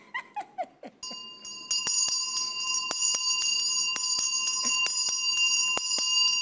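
A ringing bell struck repeatedly and left to sustain, its steady tone filling the space after a few short dog whimpers at the start.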